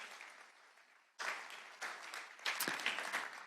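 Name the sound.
audience applause at a round table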